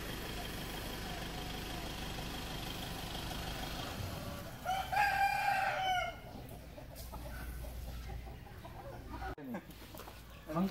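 On a rural family property, a rooster lets out one loud, close crow over a steady background hum, with faint clucking and ambient noise around it.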